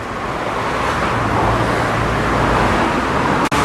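Busy road traffic beside the Tiber river in Rome, a continuous broadband roar of cars and other vehicles passing close by, steady and loud throughout, with no talk.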